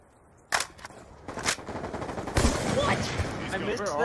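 DSR sniper rifle fire in Black Ops 2, sharp loud cracks at intervals followed by a burst of further gunfire and game noise, with people talking over it.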